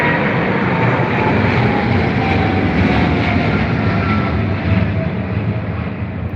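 Airliner taking off at Heathrow, a loud continuous roar of jet engines at full thrust that holds steady and close throughout, with no talk over it.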